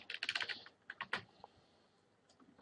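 Keys clatter on a computer keyboard as a command is typed at a Linux terminal, a quick close burst of clicks, a pause, more taps, then a final sharp keystroke.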